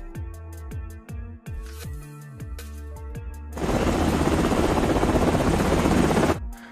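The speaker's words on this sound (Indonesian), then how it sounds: "Dari 2 helikopter yang datang, ternyata hanya 1 yang turun." Helicopters arriving in a rescue film: a close, rhythmic rotor thumping with a whining engine gives way to a loud, dense roar of downwash, then cuts off abruptly, with no speech.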